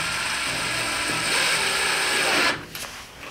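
A close, whirring power drill drone with a ratcheting rattle drives a screw into an IKEA Milsbo greenhouse cabinet, running steadily for a few seconds, then cuts off, leaving faint clicks.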